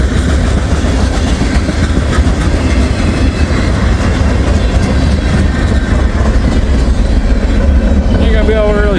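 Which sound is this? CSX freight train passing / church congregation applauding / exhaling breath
CSX freight train passing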